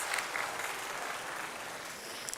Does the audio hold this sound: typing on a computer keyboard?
no